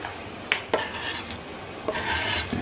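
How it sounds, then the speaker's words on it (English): Sweet corn tipped into a gently simmering pot of sweet potato and hominy soup, giving a few soft clatters and scrapes against the pan with a short stirring rustle, close and moderately quiet with no talking. "what I'm going to do is add the sweet corn"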